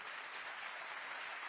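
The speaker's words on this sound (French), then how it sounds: "n'applaudissez pas, c'est vraiment pas nécessaire" A studio audience applauds steadily through a live French comedy show, a dense, even wash of clapping with no voices over it.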